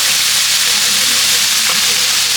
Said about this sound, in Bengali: এটা ওই সবজিটা একটু ভেজে নিচ্ছে, তার মধ্যে কাঁচা মাছটা দিয়ে দিচ্ছে